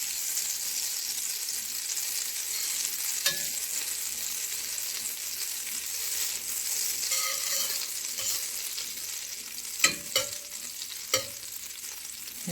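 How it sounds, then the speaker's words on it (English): Butter melting and sizzling in a pan for a chicken fricassee, a gentle steady sizzle with occasional stirring scrapes and a few sharp utensil clicks near the end, no talk. "So in our pan here, we're going to just melt our butter"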